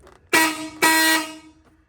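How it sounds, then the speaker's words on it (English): Two short blasts of a blaring old-style horn on a 1946 Chevy truck, the second slightly longer, loud and close with quiet between. "that's the horn"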